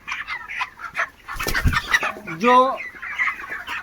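Broiler chickens on a farm of about a thousand birds cluck and call close by, with one drawn-out, rising call standing out among busy overlapping clucks and a brief word spoken.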